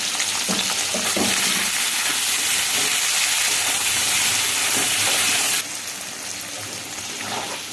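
Paneer cubes seasoned with salt and turmeric fry in hot oil, a loud, dense, continuous sizzle up close with a few stirring knocks, then the hiss drops off sharply partway through.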